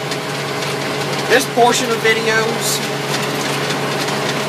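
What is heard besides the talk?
tractor mowing hay, third cutting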